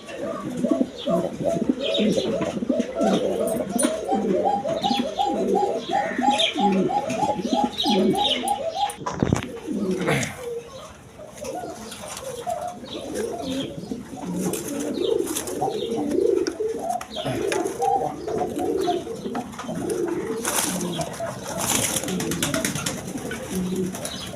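Pigeons fight and coo close by, a fast run of repeated rolling coos early on, then scuffling, wing flaps and a sharp thump, with further cooing and faint voices in the background throughout.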